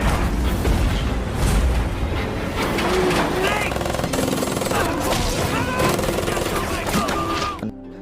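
A German attack in a war film, with rapid bursts of machine-gun fire and heavy explosions in dense, continuous volleys, mixed with shouting voices and score, before cutting out abruptly at the end.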